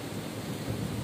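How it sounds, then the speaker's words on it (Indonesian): Strong wind blowing against a greenhouse during heavy rain, a steady low rushing roar with a grainy rain-like texture, continuous and fairly faint, with no speech. "Sekalipun kencang sekali, coba Anda perhatikan, sangat kencang sekali anginnya."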